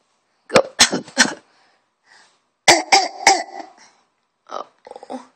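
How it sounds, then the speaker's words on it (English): A young girl coughing in bursts, two clusters of three or four harsh close coughs separated by quiet, then a few weaker coughs at the end. "I'm coughing."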